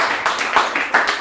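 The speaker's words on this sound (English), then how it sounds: "So give another big round of applause." Improv show audience gives a round of applause, loud and close, with distinct swelling claps that pulse unevenly, some hands standing out above the crowd.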